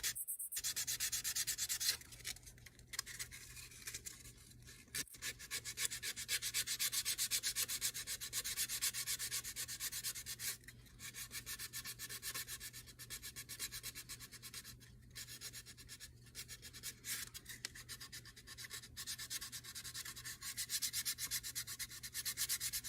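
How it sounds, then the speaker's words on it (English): Sandpaper rubbing paint off a plastic model car body, a steady close-up scratchy sanding that runs continuously with brief pauses, alone without talk. "Typically is just try to sand a little bit of the paint off, smooth it down."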